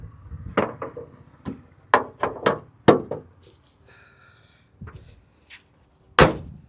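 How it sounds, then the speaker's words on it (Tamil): A Suzuki Wagon R LXI (petrol and CNG) bonnet is shut: a run of close knocks and thumps as it is handled, then one loud, sharp slam near the end. "ஸோ இப்போ நம்ம போனட்டை க்ளோஸ் பண்ணிடலாம்"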